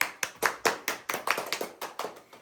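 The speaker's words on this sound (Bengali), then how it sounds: "হাততালি হাততালি হোক" Rhythmic hand clapping, about a dozen crisp claps in quick succession from a small group at a casual cooking chat, close and clear with no talking over them.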